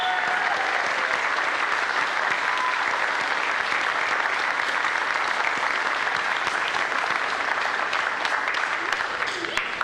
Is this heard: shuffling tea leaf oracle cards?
no